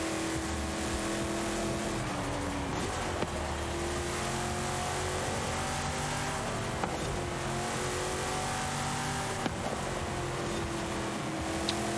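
A racing car's engine, with a rear-mounted Renault Clio V6-style layout, revs and whines steadily through gear changes in Forza Horizon, loud and sustained with pitch rising and dropping.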